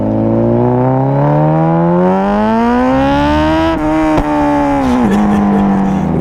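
A Honda CBR1000RR fitted with a custom over-tail exhaust rides through city streets, its engine note climbing steadily through a loud, close rev with a brief gear-change dip, then settling into a strong sustained drone.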